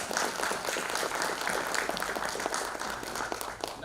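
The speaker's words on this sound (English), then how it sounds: "Please give a big round of applause for Mr." Sustained applause from an audience at a technology and sustainability conference, dense clapping from a sizeable crowd that stays steady and fades only slightly near the end.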